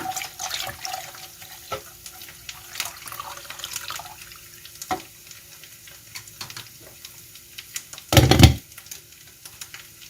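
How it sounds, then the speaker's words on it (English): Water poured into a pot of meat for Iranian ghormeh sabzi herb stew, heard as a steady splashing, sizzling wash with clattering kitchen noises and a loud gush near the end. "Now I add the water and let the meat cook well."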